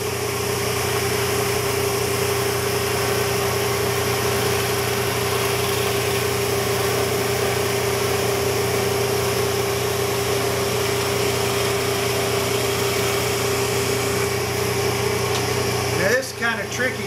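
A wood lathe spins a chair leg while a skew chisel works it, giving a steady motor hum with a continuous scraping, whirring texture throughout and a brief clatter near the end.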